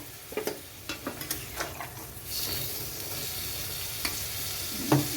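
A prawn, potato and ridge gourd curry is stirred in a pan just after water is added: a few close spoon scrapes and knocks, then a steady soft bubbling hiss with an occasional louder clink.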